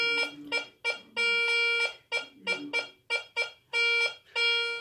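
A metal detector sounds in repeated bursts of electronic beeping while a ring is tested, with short chirps alternating with longer sustained tones, loud and close, with no talk.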